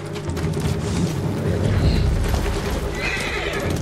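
A horse neighs and its hooves clip-clop in Ghost of Tsushima, a loud close whinny over a steady run of hoofbeats in the game.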